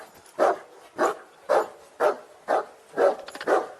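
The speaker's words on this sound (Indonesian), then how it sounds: "Graham terlihat keluar untuk memeriksa anjingnya yang terus menggonggong" In a scene from an alien horror film, a dog barks seven times in a steady rhythm of about two barks per second, each bark close and clear against near silence.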